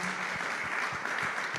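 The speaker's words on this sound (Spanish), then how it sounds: "Vamos a dar un aplauso a César Soto," Audience applause at an international biblical sciences conference Q&A, a steady dense wash of clapping filling the whole moment with no voices over it.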